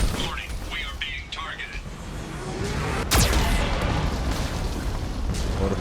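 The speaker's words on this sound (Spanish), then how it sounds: "Estas explosiones no estaban en el 1, ¿eh?" Booming explosions from the video game Mass Effect 2 roll out over a dense bed of game sound, with one sharp crack standing out partway through and a voice talking over the action.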